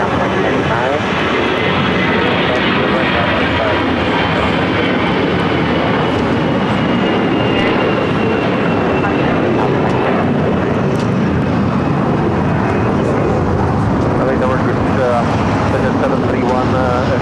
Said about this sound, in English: A 777 up next for arrival. I believe this is the all-whites Air New Zealand.